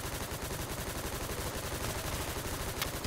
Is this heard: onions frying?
no